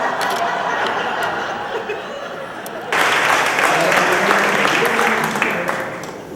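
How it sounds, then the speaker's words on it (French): An audience at an awards gala applauds, softly at first, then swells suddenly into louder, fuller clapping as people stand, with some chatter and light laughter mixed in. "Merci beaucoup tout le monde de vous être levé pour m'applaudir."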